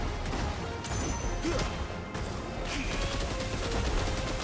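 Shotgun fire in the Final Fantasy XVI video game, with dense crashing blasts and impacts rolling one into another over a loud, busy battle mix that runs through the whole moment.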